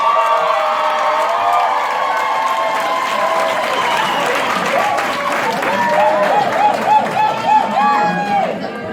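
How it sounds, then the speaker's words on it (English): Applause at a nursing graduation ceremony held in a hotel, honoring the best student: a dense, steady crowd clapping for the full length, with a voice carrying over the top of it. "I believe one more round of applause for the best student."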